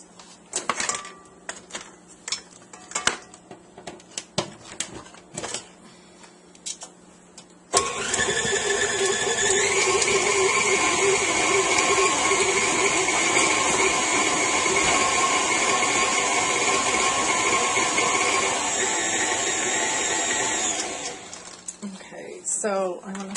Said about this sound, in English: Plug in the mixer.